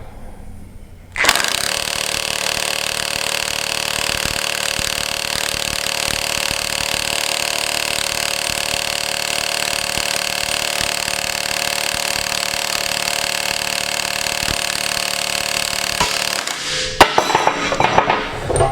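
A Carlyle 1/2-inch battery impact wrench hammers nonstop for about fifteen seconds at a steady, loud, near level while straining against a 1,200 foot-pound fastener, then cuts off abruptly into brief clatter.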